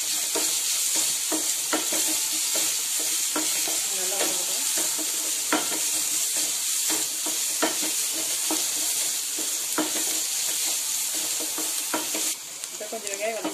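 Onions with garlic and green chili sauté in hot oil for a Tamil sankara fish curry, giving a steady close sizzle broken by frequent sharp scrapes and clicks of a stirring spoon against the pan.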